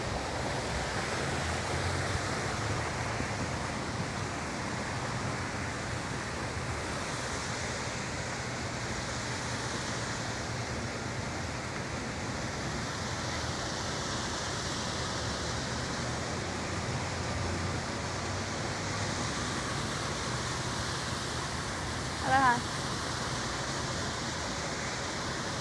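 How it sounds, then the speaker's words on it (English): Waterfalls at Hilton Hawaiian Village on Oahu, a steady broad rush of falling water heard close and fairly loud, continuous for the whole stretch with no talk, plus one brief small knock near the end. "right behind the statue, there is really beautiful waterfalls"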